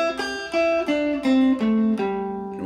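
An electric guitar plays a slow descending scale in a blues-solo lesson setting, with six or seven sustained, distinct notes heard alone and up close.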